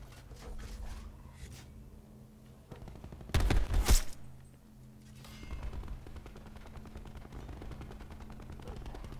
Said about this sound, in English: I hear a lot of gunfire down there.